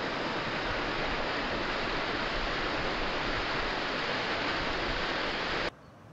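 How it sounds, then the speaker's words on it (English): A waterfall in the Brecon Beacons pours in a steady, loud broadband roar that stays unbroken for about five and a half seconds, then drops sharply to a quieter hiss near the end. "Dip number two is a waterfall."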